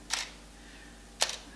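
Two crisp mechanical shutter clicks from a Canon 100D / Rebel SL1 DSLR, about a second apart, close and sharp over a faint background hum, no speech.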